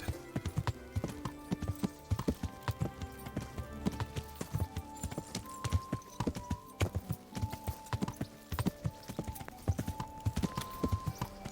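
Rapid, rhythmic clip-clop of horse hooves from the video game Kingdom Come: Deliverance, trotting steadily throughout with tonal game sounds in the background.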